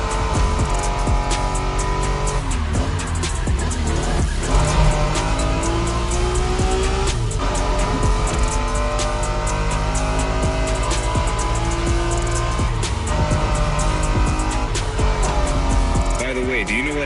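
A video game race car engine roars, revving continuously at high pitch with shifting gears and tire squeals, loud and constant throughout.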